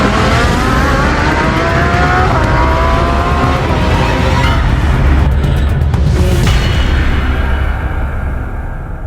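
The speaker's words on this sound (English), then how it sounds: "John slams the accelerator. Red taillights blur as he rockets away, desperate to shake his pursuers." A car revs hard and accelerates away at speed during a tense chase, engine roaring loud and continuous with rising pitch, while tires hiss over the road throughout.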